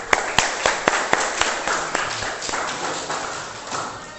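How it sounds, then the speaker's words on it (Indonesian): Clapping from a class or group after a handwashing demonstration, starting with a few loud, separate claps and settling into a dense, steady patter that slowly thins over about four seconds. "tepuk tangan buat kita semua."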